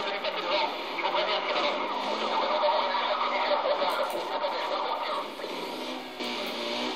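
Police sirens from the Need for Speed Most Wanted video game wail continuously and fairly loud, a dense layered warble of several cars' sirens mixed with game engine noise, with a slight dip near the end.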